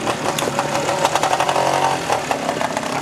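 Vintage motorcycle engine at an off-road trials event, a steady, loud mid-pitched running note with rapid knocking pulses, close and continuous.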